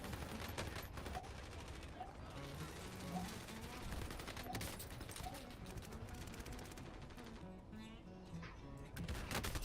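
Gunfire in the space combat game Space Tool, rapid repeated shots and bursts rattling almost without pause, moderately faint and steady, with occasional talking underneath.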